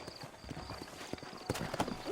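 Horse hooves clip-clop at a trot in the Red Dead Redemption video game, a steady close rhythm over a busy outdoor ambience, with a brief horse-like vocal tone near the end.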